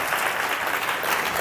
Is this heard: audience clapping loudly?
yes